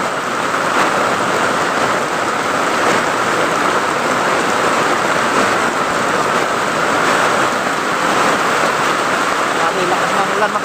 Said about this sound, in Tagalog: So, lakas ng ulan mga kabady, no?